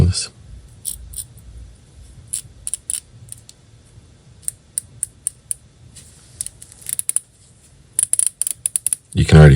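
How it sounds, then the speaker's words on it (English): An Abu Garcia C4 baitcaster reel with an audible drag gives bursts of sharp, fast mechanical clicks, close and separated by quiet gaps, with handling noise at the start and end. "You can already hear it clicking, so that's going to work for sure."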